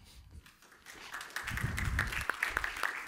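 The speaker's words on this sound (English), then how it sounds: "Round of applause." Conference audience applause at a 5G tech event, starting faint and swelling into steady, moderately loud clapping that runs to the end.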